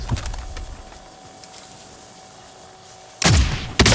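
Sharp gunshots ring out in a video game shootout, with a quick burst of cracks at the start and two loud, close shots near the end, separated by quieter background game ambience.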